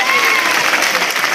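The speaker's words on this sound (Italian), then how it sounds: "facciamo sentire il nostro applauso per Mirko Spighi" A crowd applauds and cheers to welcome a new football player, a steady, dense clapping that fills the whole short stretch with no other sound.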